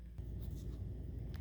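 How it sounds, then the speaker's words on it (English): A kitten plays in crumpled packing paper indoors, producing faint, scattered crinkling rustles in short bursts against a quiet room. "That noise you hear is my kitten playing and packing paper."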